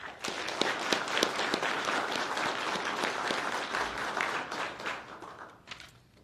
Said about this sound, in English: a round of applause for executive staff, please